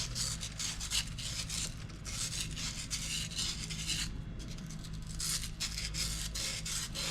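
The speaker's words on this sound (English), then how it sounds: "Now I'll smooth it out with the sandpaper." Sandpaper rubs back and forth across a part on a Dewalt 3800 psi pressure washer with a Honda GX270 engine, giving a steady, close, continuous rasping scrub that runs without pause and without talk.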